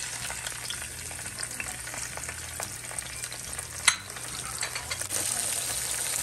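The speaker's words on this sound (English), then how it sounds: "I'm just gonna allow this to saute for about 1 to 2 minutes" Seasoning sautés in hot oil in a pot for Jamaican jerk cabbage and saltfish, a steady close sizzle and crackle with a brief clink of a utensil midway and the frying growing slightly louder at the end.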